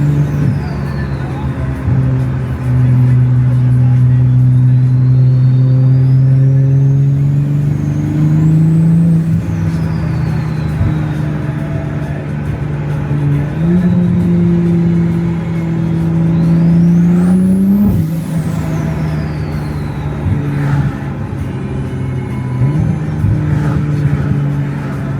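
A Toyota Supra cruises along a mountain parkway, its engine droning steadily from inside the cabin with pitch rising and falling through gear changes and throttle, a brief high whine swelling near the end.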